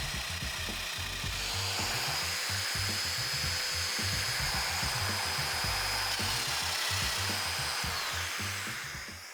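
A mortising machine cuts mortises into a cart panel, giving a continuous high whine with rapid chattering pulses underneath, loud and close, with no talking.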